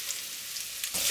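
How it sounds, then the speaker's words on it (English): Ginger, garlic and Maggi cubes fry in oil in a pan over low heat, giving a steady soft sizzle that swells louder near the end as more goes in. "add some oil to the pan. Now I'll add the rest of my ginger, garlic, and my Maggi cubes."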